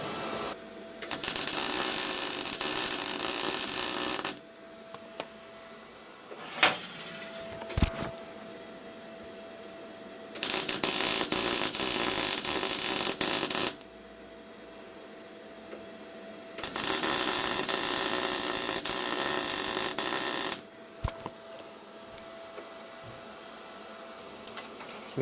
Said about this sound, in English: touch the wire in the centre of the hole, pull the trigger and work around, and it forms a really strong plug weld